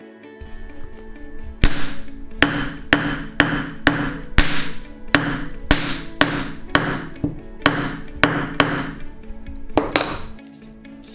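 Hammer blows strike a giant toy cap set on a polymer or paper banknote against a brick, about a dozen sharp, loud bangs at an uneven steady pace, with no talking.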